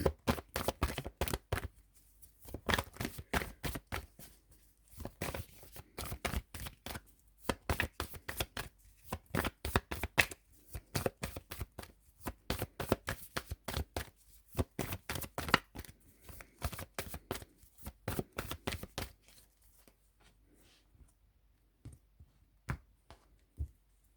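Tarot cards are shuffled for a reading in quick, crisp bursts of riffling and tapping, close and distinct, with short pauses between rounds before fading to quiet handling at the end.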